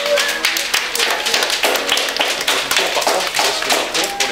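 Audience clapping for a performer named Delphine at a live event, a dense steady patter of many hands lasting throughout, fairly close and loud.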